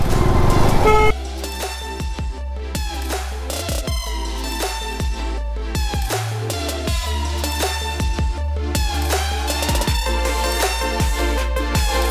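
Busy city traffic in Guntur: a dense, steady roar of engines with many car and vehicle horns tooting and honking throughout, some long and overlapping, others short beeps, all loud and close.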